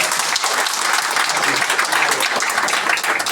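An audience at a felicitation event with doctors present gives loud, continuous applause, a dense wash of clapping hands that holds steady from start to finish.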